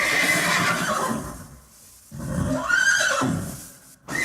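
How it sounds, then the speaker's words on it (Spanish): A horse neighs loudly and close, a long shrill whinny followed by a second rising whinny after a short pause, with no talk over it. "Caballo."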